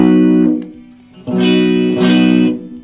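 Yamaha Pacifica PAC112V electric guitar with the pickup coil tap engaged, two sustained strummed chords ringing out close and loud with a brief quiet gap between them, bright and sparkly.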